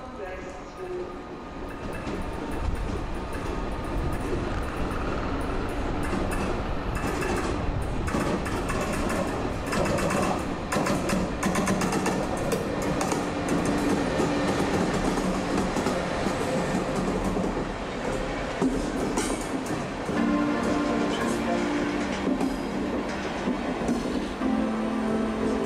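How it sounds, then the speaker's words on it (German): Trains rolling along a Berlin railway line, a loud sustained rumble with rhythmic wheel clatter and screeching, the rolling noise steady throughout as talking runs underneath. "Oder die grünen Züge von Flixtrain, die seit einiger Zeit von Berlin nach Köln fahren."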